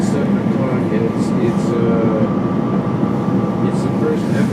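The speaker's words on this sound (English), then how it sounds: "This here is the 30th Street station platform, it's where I get off the train every morning." A steady, loud train rumble fills a Philadelphia 30th Street station platform on a January morning, a dense mechanical hum with faint hissing on top that continues without a break.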